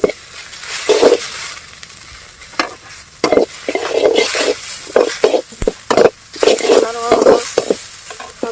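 Chopped green chillies fry with a steady sizzle in a pan of crab curry base while a spoon stirs and scrapes in repeated strokes, close-up and loud, with no talking.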